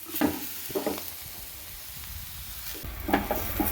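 Crushed coconut is stirred into papaya thoran in a pan, with a soft steady sizzle under a few scraping strokes of a spoon near the start and end.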